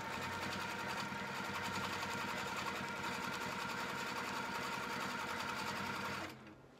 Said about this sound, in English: my machine has started skipping stitches